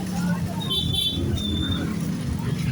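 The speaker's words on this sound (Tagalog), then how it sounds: "sobrang daming sasakyan" Heavy road traffic near a cemetery on 1 November makes a dense, steady rumble of engines with a couple of short horn toots, while people nearby talk and murmur throughout.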